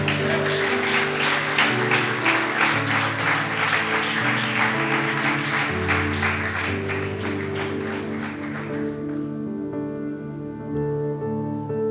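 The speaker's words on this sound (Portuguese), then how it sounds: "Você pode aplaudir ao Senhor?" Church congregation applauding, a dense wash of clapping that swells for about nine seconds under sustained music, then fades out, leaving the music ringing alone.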